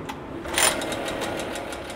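A used 2005 outboard boat motor running just after starting, a rapid, even mechanical clatter with rhythmic ticking pulses, close and steady.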